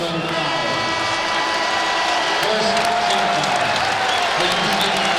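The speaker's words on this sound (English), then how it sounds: "Gets a nice round of applause from not only the fans, but his teammates." A large NBA arena crowd claps steadily and continuously, a dense wash of applause with scattered cheers throughout.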